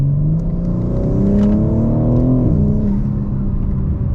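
A 2022 BMW M4 Competition accelerating hard to overtake on a road, engine droning loud and steady from inside the cabin with pitch climbing through the revs, no voices.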